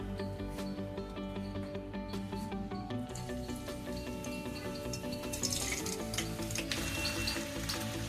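Chopped onions hiss in hot mustard oil with a continuous close sizzle and a few popping crackles, set under steady background music.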